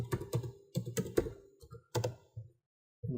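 Several bursts of keystrokes on a computer keyboard as an email address and password go into a login form, clicks clustered in quick runs with short pauses between, close and fairly loud, no voices.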